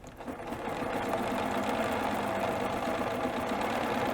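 A Bernina B990 sewing machine stitching an edge-to-edge quilting pattern. It gives a steady, fast, mechanical whirring hum with a rhythmic needle patter that holds at a constant level throughout.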